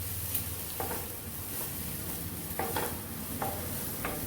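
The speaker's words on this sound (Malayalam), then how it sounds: "ആദ്യം നമുക്ക് ഒരു പാത്രത്തിൽ കുറച്ച് വെളിച്ചെണ്ണ എടുത്ത് അതിലേക്ക് നമുക്ക് തേങ്ങ ഇട്ട് കൊടുക്കാം." Grated coconut frying in coconut oil for unnakkaya, a soft continuous sizzle with a few light spoon scrapes and taps, close but quiet, no voices.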